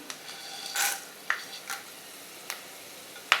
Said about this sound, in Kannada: ಎಣ್ಣೆ ಕಾಯಿದ ಮೇಲೆ ಒಂದು ಮೂರು ಸ್ಪೂನ್ ಕಡಲೆ ಬೀಜ ಹಾಕ್ತೀನಿ ಕಡಲೆ ಬೀಜ ಸ್ವಲ್ಪ ಫ್ರೈ ಆದಮೇಲೆ